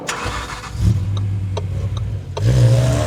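A Toyota Crown Crossover hybrid with a 2.5-litre engine and rear electric motor for all-wheel drive pulls away with a low engine hum that swells as it accelerates. A few clicks are heard and nobody speaks.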